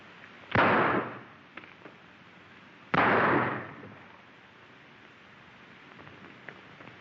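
Two loud, sharp gunshots from an old 1933 western film, each a crack followed by a brief decaying rumble, spaced a couple of seconds apart over a quiet background hiss.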